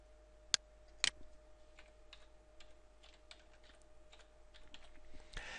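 Quiet typing on a computer keyboard, with two sharp louder clicks early on and then a run of soft, uneven keystrokes that continues to the end.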